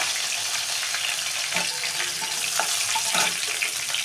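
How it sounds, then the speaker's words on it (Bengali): Dried red chillies hit hot oil as a tempering for dal, giving a steady hiss and crackle, with occasional clinks and stirring noises from the pan. "ফোড়ন আমি দেবো শুকনো লঙ্কাটা"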